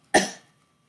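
A person imitates a single barking cough: one short, sharp, harsh burst, close and fairly loud, fading quickly into silence.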